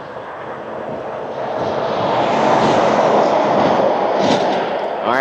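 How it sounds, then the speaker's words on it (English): An Airbus A380 passing near Toronto Pearson airport, a broad jet roar that swells to a peak midway and stays loud, with a brief whine rising near the end. "there is the ATI A380"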